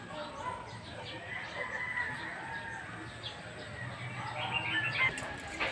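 Chickens clucking outdoors on a rural farmyard, scattered soft calls over steady breezy ambience, fairly distant and low in level, with no talk.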